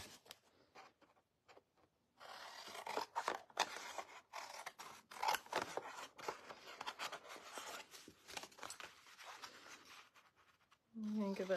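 Scissors cut out a piece with quiet, close, irregular snips and scrapes that start after a brief near-silence and continue in uneven bursts.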